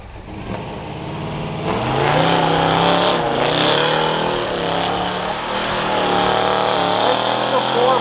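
A Mopar car with a 440 engine roars through a tire burnout at a Moparty contest, the engine revving hard and loud with a sustained, wavering howl over crowd noise.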